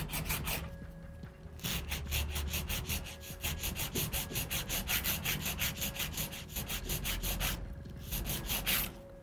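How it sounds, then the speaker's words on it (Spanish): A 150-grit nail file rasps rhythmically along the sides of sculpted acrylic nails, fast back-and-forth strokes close up and fairly soft, with a couple of short pauses. "con una lima 150 Empezamos a retirar los excesos de los laterales"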